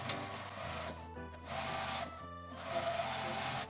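A sewing machine stitches the seam of a cotton drawstring bag, with a steady, close mechanical whir broken by two short pauses.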